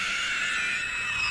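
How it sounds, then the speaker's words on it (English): Ringwraith screech from The Fellowship of the Ring film: a shrill, piercing, sustained shriek held steady and loud for the whole short moment, with no other sound beneath it. "That hideous screech, signature to the ring wraiths"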